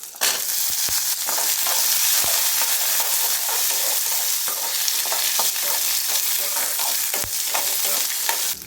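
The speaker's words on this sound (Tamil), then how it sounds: "இஞ்சியும் பூண்டும் ஒரு 30 செகண்ட்ஸ் வறுத்த பிறகு நம்ம சின்ன வெங்காயம் சேர்த்துடலாம்" Ginger, garlic and shallots frying in hot oil for kadamba chutney, a loud continuous sizzle close by with occasional stirring clicks, and no voices.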